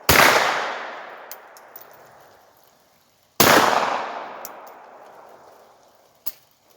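Two sharp, loud gunshots ring out a few seconds apart at an outdoor range, fired at a small target 30 yards away with iron sights. Each crack decays into a long echo, followed by faint clinks.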